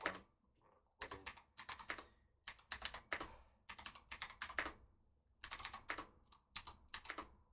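Close, brisk typing on a custom mechanical keyboard with Cherry MX switches, fitted with Cherry MX Speed Silvers or Blues, comes in several bursts of rapid key clacks separated by short pauses, with no talking.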